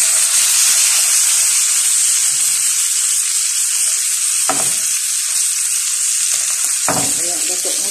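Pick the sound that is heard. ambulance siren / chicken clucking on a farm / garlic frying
garlic frying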